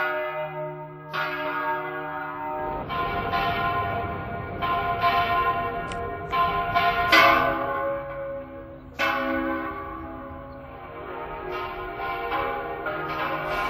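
Church bells at a parish church ring out loudly in a series of overlapping strikes, each clang leaving a long resonant decay as two bells sound in alternating, irregular rhythm, close and without talk.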